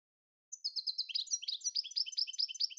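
A goldfinch sings a fast, bright twittering phrase of rapid chirps after a short silence, clear and alone at moderate volume.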